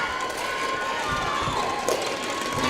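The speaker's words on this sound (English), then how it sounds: "You hear the fans giving the Lady Panthers bench players a round of applause" Crowd applause and cheering from fans at a girls' high school basketball game, Weslaco Lady Panthers vs Weslaco East Lady Wildcats, greeting the Lady Panthers bench players; a steady, moderately loud wash of clapping and crowd noise runs throughout.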